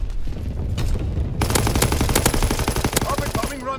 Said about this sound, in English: Enemy anti-aircraft fire!